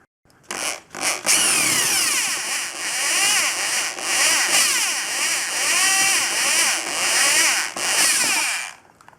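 A power tool whines steadily and close, drilling out rivets and screws from the rear three-quarter trim panel of a Lotus Excel, rising and dipping in pitch with brief breaks near the start.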